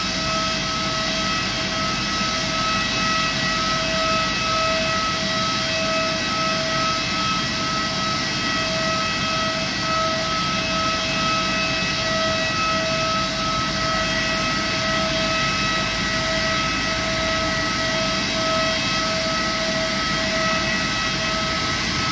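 A Malaysia Airlines Airbus A330-200 wide-body jet gives a steady, sustained engine roar with a constant whine, even and unbroken throughout, no voices.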